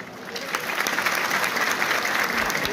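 A hall audience at a Turkish foundation's evening event claps continuously, a thick even wash of applause that swells slightly and holds steady to the end.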